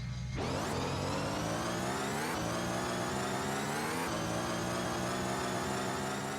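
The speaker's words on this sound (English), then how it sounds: "here's a 5-second demo of the engine audio." A Batmobile engine in a car video game hums steadily and loudly, with a rich, continuous mechanical tone. Its pitch rises and falls in several revving surges, alone without talk.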